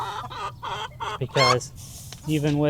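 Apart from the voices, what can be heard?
Lavender Americana hen clucking in nesting box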